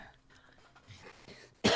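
A single abrupt, loud cough bursts out after a quiet stretch of soft room noise, close to the microphone.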